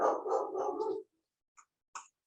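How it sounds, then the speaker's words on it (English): A dog in a home barks a couple of short, faint yelps in the background after a stretch of unrelated speech. "Can you hear my dog?"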